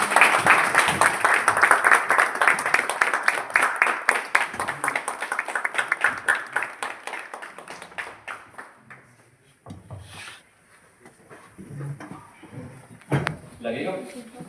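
Applause in a meeting room welcoming a regional product trainer, rhythmic clapping for about nine seconds that thins out, followed by a quieter stretch with low voices and some handling noises.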